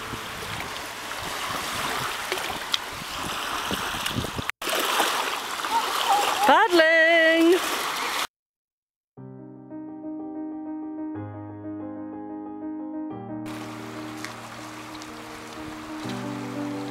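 Water splashes and swirls as someone wades into the cool shallows of Loch Lomond along the West Highland Way, a steady close churning that cuts off abruptly and gives way to music.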